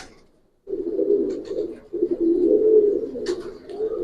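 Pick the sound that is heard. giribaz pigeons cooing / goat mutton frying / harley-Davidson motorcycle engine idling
giribaz pigeons cooing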